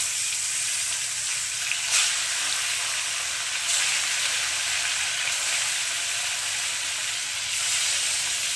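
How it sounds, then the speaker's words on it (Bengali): Bhola fish frying in mustard oil in a hot wok, a steady loud hissing sizzle that holds evenly throughout, with brief swells of spitting, no voices. "তো মাছগুলোকে এবার আমি ভেজে নেব"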